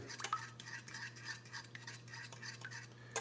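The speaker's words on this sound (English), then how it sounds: "so see I'm stirring that up right there" Garlic powder is stirred into melting butter in a pot, soft rhythmic scraping strokes of a utensil against metal, close and quiet over a low steady hum.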